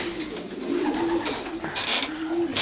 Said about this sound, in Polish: Co tu jeszcze mamy z takich ciekawych gołębi?